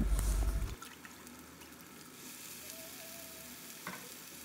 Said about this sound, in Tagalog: mag-add na po tayo dito ng pasta sauce at tubig